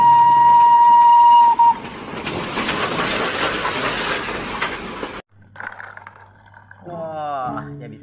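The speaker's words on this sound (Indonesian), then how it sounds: "Wow, ada kereta api Thomas" A toy Thomas steam train whistle toots steadily, followed by a noisy mechanical whir as the toy runs, then brief chatter and motor hum near the end.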